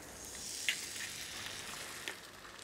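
A fried egg sizzles softly in a moderately warm pan, a faint steady crackle with a couple of brief pops, quiet and alone.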